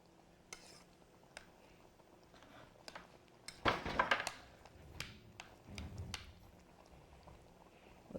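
Coconut being stir fried in a pan, with a utensil scraping and stirring through a soft sizzle, scattered clinks and a brief louder burst of scraping partway through.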